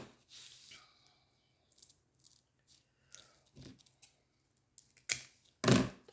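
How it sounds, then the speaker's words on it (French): Scissors snip foam strips for ink storage in a quiet room, with a few soft, spaced cuts and crunches that build to two louder, sharper snips near the end, plus light handling sounds between them. "Je vais couper des bandes de 11."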